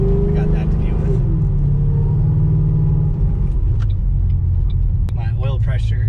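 Supercharged 3-valve Mustang GT with a swapped 6R80 automatic downshifting, a loud, steady low engine rumble whose pitch shifts partway through, heard up close from inside the car with someone talking over it.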